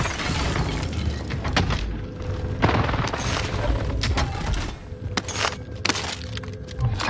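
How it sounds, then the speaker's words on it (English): Heavy explosions and shattering blasts from a precision airstrike in a video game, a rapid volley of loud booms with crackling debris rolling on for several seconds. "Precision airstrike."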